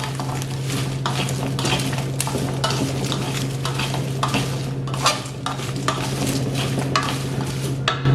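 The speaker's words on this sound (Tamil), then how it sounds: "இந்த நல்லா வறுபட்டு கொண்டு வருது பட் இன்னும் கொஞ்சம் ஒரு ரெண்டு நிமிஷம் வறுக்கணும்" Jackfruit seeds and dried anchovies stir-fry in a pan, a steady close sizzle broken by repeated scraping strokes of a spatula against the metal, with no voices.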